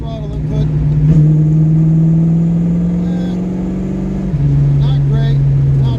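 Carbureted car engine pulling in fourth gear at 2,500 RPM from zero throttle, a steady loud drone holding one pitch with a slight rise, then a brief dip after four seconds before settling again.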